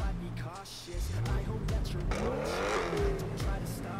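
A heavily tuned Nissan GT-R in a video game fires up, its exhaust swelling into loud, rising revs with sharp tire-squeal edges, the engine note sweeping up and down over about four seconds.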